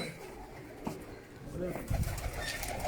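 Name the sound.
pigeons cooing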